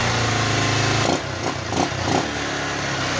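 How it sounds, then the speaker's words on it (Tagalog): A loud, rough, noisy automatic motorcycle engine idles continuously up close, its rattling drone dipping slightly midway as the revs change. "Bali ito lang yung sanhi, yung pagkaingay ng kanyang motor."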